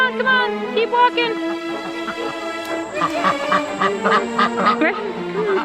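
A duck being coaxed under a fence on a homestead quacks in a string of loud, nasal calls close by, with a person speaking in between.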